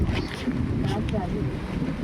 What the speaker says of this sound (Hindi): अचानक पानी चालू हो गया